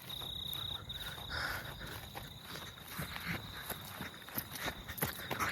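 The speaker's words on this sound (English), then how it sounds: "Okay, it's just crickets." Crickets chirping at night in a steady, thin high-pitched trill, with soft footsteps crunching nearby throughout.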